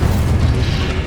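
Incendio fire spell in Hogwarts Legacy, a short, deep booming burst of flame that rolls as a dense low roar for about a second, loud and close.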